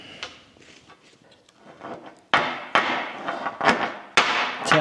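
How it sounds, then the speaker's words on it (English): A hammer taps a U-joint retaining clip into a drive shaft yoke during restoration of an International Scout drive shaft: several sharp metallic knocks, close and fairly loud, after a few quieter handling clicks. "Tap it with the hammer."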